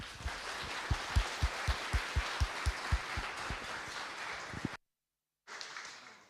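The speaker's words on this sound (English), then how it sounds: "So please, round of applause for Martin Chaov." Audience applause at a conference talk on integrating React into legacy projects, a moderate burst of clapping in an indoor room with distinct low thumps, a brief gap of silence, then a short return of sound.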